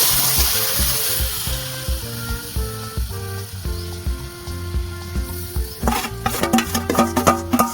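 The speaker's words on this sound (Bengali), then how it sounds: "এবারে আমি চিনি সমেত দামটা বাঁকিয়ে রেখেছিলাম ঢেলে দেবো" Sugar syrup is poured into oil-free Burmese-style raw mango pickle frying in a pan, giving a steady sizzle and bubbling beneath louder rhythmic background music.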